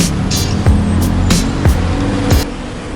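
Loud, close street traffic in Bangkok, with vehicles rumbling past and several sharp bursts and whooshes in quick succession over a constant engine drone.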